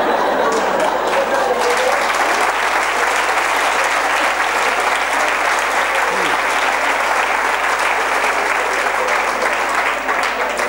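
Dense, steady applause from a concert audience fills the whole stretch, loud and continuous with no pauses, the clapping of a large crowd heard up close.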